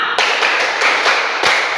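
A classroom of pupils claps in rhythmic counted groups, loud and close, the sharp hand claps coming in steady repeated bursts with no talking over them.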